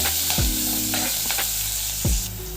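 Sliced onions and green chillies frying in oil in a pan for capsicum curry, a continuous close sizzle with stirring scrapes over it and no talk.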